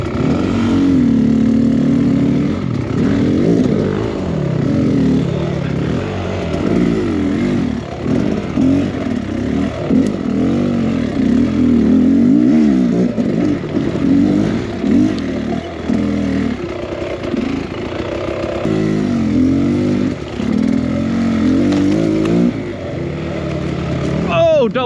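A Beta X Trainer dirt bike rides a tight wooded single-track trail, its engine revving and surging continuously while the bike clatters over rough ground.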